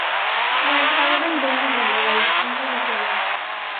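A Kawasaki motorbike engine revving in an Indian bike video game, a loud, continuous, synthetic-sounding drone that holds its pitch, then drops slightly in level toward the end.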